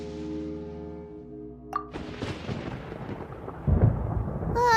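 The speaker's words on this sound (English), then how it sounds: "Paimon hears thunder!" Thunder rumbling in the video game Genshin Impact, a sharp crack followed by a broad rolling roar that swells louder toward the end, after a sustained musical tone fades out.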